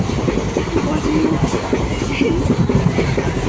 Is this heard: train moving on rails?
yes